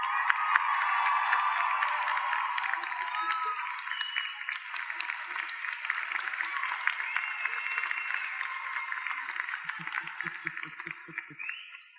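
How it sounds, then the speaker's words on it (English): Sustained applause from a convocation crowd for 2012 graduates, a steady broadband patter of many hands with scattered cheers, gradually thinning into sparser individual claps near the end. "Let's have one more round of applause for graduates."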